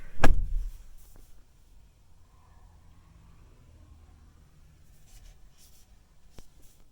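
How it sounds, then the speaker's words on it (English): The door of a 2021-or-later Ford F-150 pickup opens with a sharp, close latch clunk at the start, followed by near silence, a faint cabin hum and one more small click toward the end. "Let me open the door too to make sure that that shuts off."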